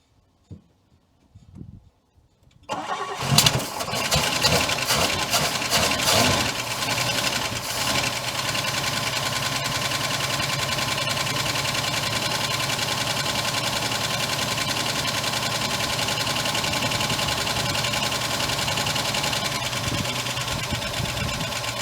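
A 1962 Oldsmobile 98 engine cranks briefly after a few quiet clicks, catches and settles into a steady, loud, continuous idle with a slight ticking valve-train rhythm, running alone without speech.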